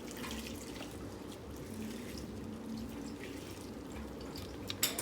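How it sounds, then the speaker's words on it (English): Lentils being rinsed with water in a strainer: a soft, steady trickle and patter of running water with faint drips, quiet and close, with a brief louder splash near the end. "then we'll keep them in the strainer and then just rinse them with water to get off any of the impurities or debris with them"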